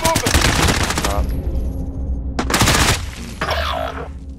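Video game gunfire rattles in rapid automatic bursts, loud and close, with one long burst, a pause, then another burst and fainter shots as it trails off.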